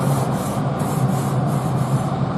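Metal scraper rubbing across the grates of a hot pellet grill before steak goes on, a steady close rasping scrape in repeated even strokes, alone with no talk.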